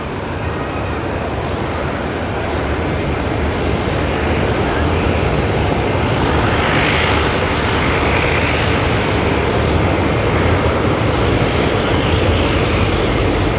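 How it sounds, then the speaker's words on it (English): A heavy jet landing at Auckland Airport on arrival from Rarotonga, a loud, broad, steady engine roar that swells slightly midway and holds throughout. "we have got a heavy landing any second now, NZAA from Rarotonga"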